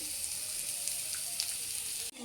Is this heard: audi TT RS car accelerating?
no